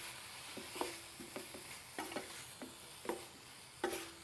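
Broccoli and cauliflower gnocchi being stirred with pesto and chopped fresh basil in a pan, soft repeated scraping and clicking strokes at an irregular rhythm over a faint background hiss.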